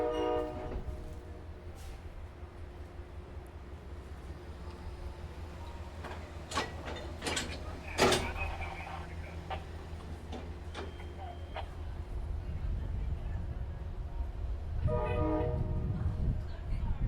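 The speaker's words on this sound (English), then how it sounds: "here's my train" An Amtrak passenger train rumbles steadily nearby with clanks and a few sharp metallic hits, a horn-like tone sounding briefly; a voice speaks faintly at times.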